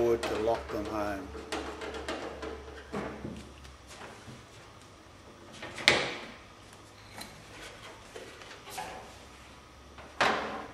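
A computer case's back panel sliding into its slots, giving several scraping, clunking metal knocks, two of them sharp and louder, while someone talks throughout.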